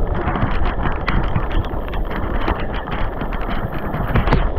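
Strong storm wind roars and buffets steadily at close range, a dense continuous rush with gusty bursts and no voices.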